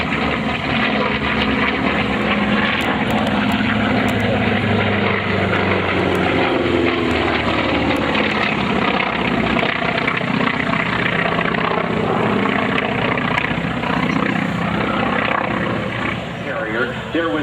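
A vintage F4U Corsair and FM-2 Wildcat propeller fighter pair flies past at an air show performance in Indianapolis, a loud sustained piston-engine drone and propeller roar that stays strong throughout, with crowd murmur and an announcer beneath.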